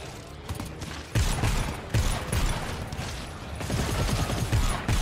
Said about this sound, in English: My turret is doing work.